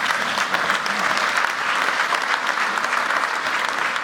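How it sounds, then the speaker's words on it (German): A seated audience applauds after a state secretary's speech on energy efficiency at a German panel event, dense steady clapping from many hands that fills the room throughout. "Ja, klatschen Sie ruhig."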